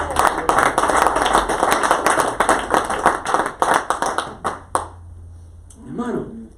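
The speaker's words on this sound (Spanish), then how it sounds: "¿No cree que merece un aplauso?" A church congregation claps together in a fast, dense burst that thins into scattered separate claps and then stops, after which a voice speaks briefly.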